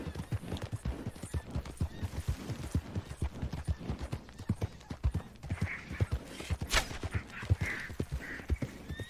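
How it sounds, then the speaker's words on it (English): Horse hooves clip-clopping in the video game Red Dead Redemption 2, a steady rhythmic stream of close hoofbeats with occasional brief harness or tack sounds. "Oh, it's a horse."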